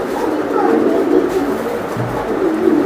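Club racing pigeons, Pakistani teddy type, coo in a low continuous murmur against dense background noise, with a voice faintly mixed in.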